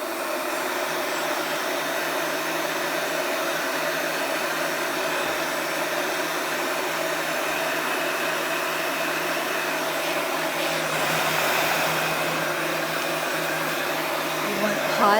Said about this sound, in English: I just heated this up with the heat gun